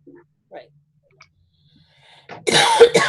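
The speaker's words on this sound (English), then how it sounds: "I'm sorry if I keep coughing." A person coughs and clears their throat several times in a loud, harsh burst near the end, after quiet scattered throat noises, close to the microphone.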